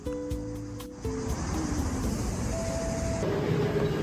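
A train at a railway station in Madrid, Spain, with a steady close rumble and shifting tonal whines from the engine, with no talk.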